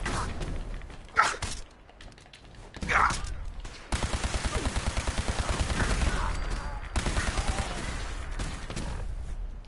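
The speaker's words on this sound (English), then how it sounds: "What are you shooting at me" Enemy gunfire in Fallout 4: two isolated shots, then a long run of rapid, evenly spaced automatic fire, with a few more scattered bursts afterward, all fairly loud and close.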